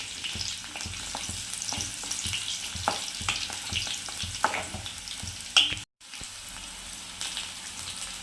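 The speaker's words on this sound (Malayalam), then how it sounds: "കടുക് ഇട്ട് കൊടുക്കാം ചുവന്നുള്ളി ഇട്ട് കൊടുത്തിട്ടുണ്ട്" Mustard seeds and small red shallots fry in hot oil, making a constant close crackle and sizzle with light popping ticks and a few stirring scrapes, broken by a brief drop to silence near the end, with no talking.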